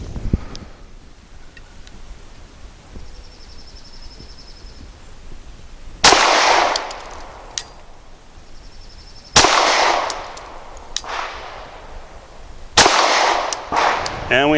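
Canik TP9 Elite Combat Executive pistol fired at targets, three sharp, loud shots spaced a few seconds apart with ringing decay and faint metallic clinks between them.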